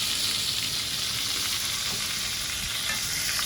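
Soft shell crab crisping in hot oil, a steady, loud, dense sizzle that holds evenly throughout with faint stirring scrapes underneath and no voices.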